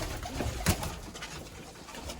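Mardin pigeons coo softly nearby in a loft, with low throaty calls and a brief wing flutter against quiet background noise.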